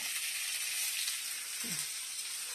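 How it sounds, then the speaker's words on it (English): Beef pot roast searing in a hot pan for burgundy pot roast, giving a dense, even sizzle that stays constant and close for a couple of seconds, with a faint low thump partway through and no voices. "Sear all the sides and every fucking thing."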